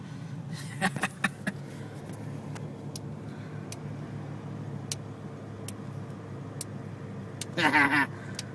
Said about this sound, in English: First gear downshift.